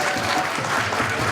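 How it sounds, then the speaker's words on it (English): Clapping from an audience at a youth festival spelling contest after a contestant is eliminated, a short, dense and steady burst of applause that fills the whole moment at even loudness. "So please give a big round of applause for Tanay."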